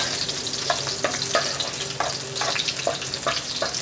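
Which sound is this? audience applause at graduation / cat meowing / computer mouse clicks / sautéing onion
sautéing onion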